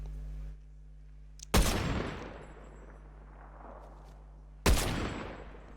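Two sharp, loud sniper rifle shots from the Fortnite video game ring out about three seconds apart, each trailing into a long decaying echo, with no talking.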